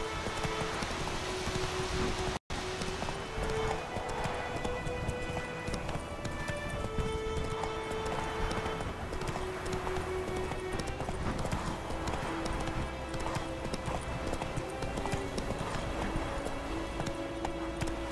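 Steady clip-clop of horse hooves at a run in The Witcher 3, continuous and fairly loud throughout with a game soundtrack beneath, one brief dropout early on.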